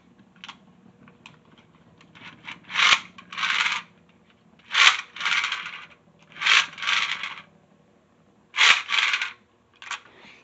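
A Brave Valkyrie Beyblade spins and clashes in a stadium, giving bursts of bright metallic scraping and rattling in short repeated clusters with quiet gaps between, heard close.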